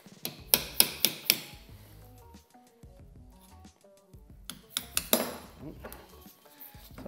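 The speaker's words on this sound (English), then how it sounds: "let me see if I can do this with a punch." A metal punch is tapped against the lock tabs on the oil pump bolts of a Honda CB350 engine during teardown. Two quick bursts of four sharp metallic clinks play over a quiet, muffled background.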